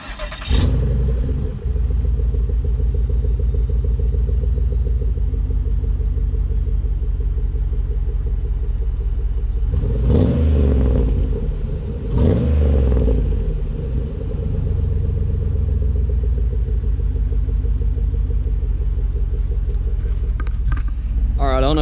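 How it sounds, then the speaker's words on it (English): An LS-powered GM car idles with its resonator deleted. The deep, throaty exhaust rumble is loud and steady throughout, with two brief swells in the middle of the run. "You can hear the car idling now, and it definitely sounds throatier, but it's not too aggressive"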